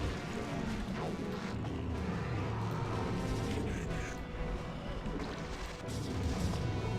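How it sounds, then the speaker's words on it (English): Constant battle noise in StarCraft: Brood War's Fall from Grace mod: layered crashes, thuds and artillery-like impacts pile into a dense, busy din that carries on without a break. "The background sound effects of the battle are also really bad for readability."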